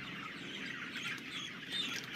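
Broiler chickens in a free-range poultry house keep up a continuous, dense chorus of high chirps and cheeps from a crowded flock, steady and fairly faint with no talking.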